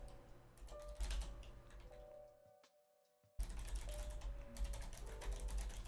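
Fingers tap rapidly on a computer keyboard, close and quiet, in an uneven stream of clicks that pauses briefly in the middle before resuming.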